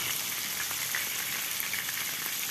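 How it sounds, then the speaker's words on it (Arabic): About 300 grams of small-cubed chicken breast sautéing in roughly three spoons of oil, a close, steady crackling sizzle with faint popping throughout and no voices. "للحشو هنحتاج 300 جرام من صدور الفراخ متقطعه مكعبات صغيره. هنشوحها في حوالي 3 معالق من الزيت."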